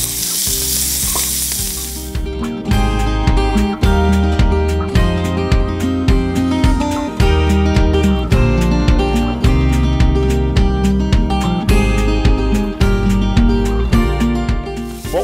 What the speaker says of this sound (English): we're just going to cook them and let them get soft here in the bacon grease